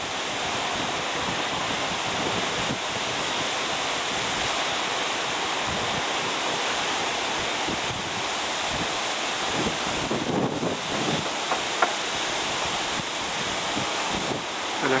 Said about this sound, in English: And actual waves.